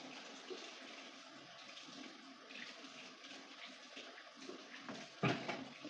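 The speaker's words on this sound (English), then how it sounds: "Let me wash my hands off." A kitchen tap runs steadily while hands are washed at the sink before cooking. The water rushes at a constant level, and a brief clatter comes near the end.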